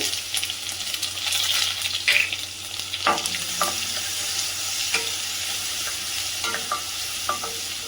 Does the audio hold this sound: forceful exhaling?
no